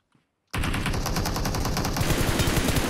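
Rapid automatic gunfire from the PUBG Mobile battle royale game bursts in suddenly after a half-second of silence, a dense, sustained volley of close, loud shots that continues to the end.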